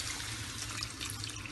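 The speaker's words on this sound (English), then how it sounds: "Okay, so I'm going to add the water now." Water is poured from a measuring cup into a pot of moringa drumstick and potato curry, a soft, faint continuous splash and trickle lasting a moment with no talking.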